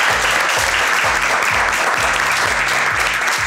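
Loud, sustained applause from a studio audience on a Turkish television show, steady and dense throughout, with a regular low thumping beat pulsing underneath.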